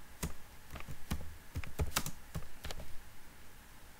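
A computer keyboard is typed on steadily while simple code is entered, giving a close run of quick, uneven key clicks over a low background hiss with no voice.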